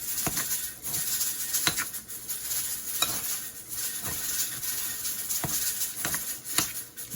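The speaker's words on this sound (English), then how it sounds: "I'm going to mix that together and then put it in a loaf pan." Meatloaf ingredients being mixed by hand or spoon in a bowl, a steady wet squishing and stirring with a few sharp clinks against the bowl, close and continuous.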